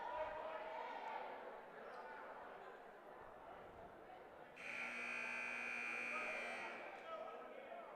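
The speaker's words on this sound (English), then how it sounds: "First buzzer on that timeout." A timeout buzzer at a varsity high school basketball game sounds one long, steady electronic tone lasting about two seconds over crowd murmur, following commentary and gym noise.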